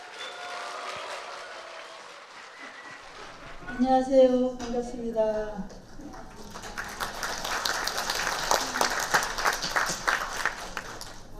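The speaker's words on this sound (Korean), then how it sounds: "여러분 큰 박수와 함성으로 서강 스님을 모시겠습니다" At a Buddhist lecture event, a speaker greets the hall, then audience applause rises and continues as a broad, steady wash of clapping welcoming a monk to the stage.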